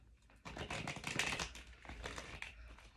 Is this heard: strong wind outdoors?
no